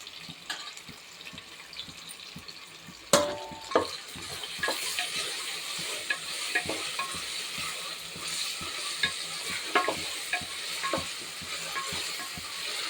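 Golden onions with mint and coriander sautéing in a pan for coconut milk pulao, a steady sizzle broken by repeated stirring scrapes and clinks, close and moderately loud, with no talking.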